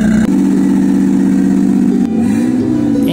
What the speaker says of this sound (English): hope to start the engine because it was not running for 3 years